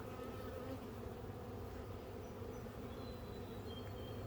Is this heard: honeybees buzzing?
yes